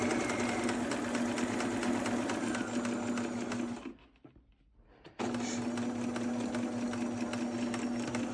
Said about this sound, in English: You're going to back stitch and sew around the arm opening